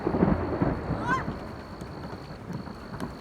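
Thunder rolls through an outdoor thunderstorm as a low, steady rumble at moderate loudness, strongest at the start and continuing throughout, with faint background voices.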